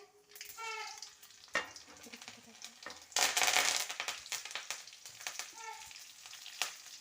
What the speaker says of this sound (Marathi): त्यात आपण थोडीशी मोहरी घालूया, त्यानंतर थोडंसं जिरं घालूया, नंतर कढीपत्ता टाकूया